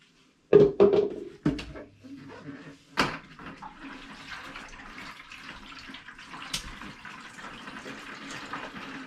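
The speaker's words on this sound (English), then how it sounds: "Hear that water churning around in there." Water churning inside a film developing tank during a pre-rinse in a temporary darkroom, with a few sharp sloshing bursts at first, then a continuous low swirling wash close by.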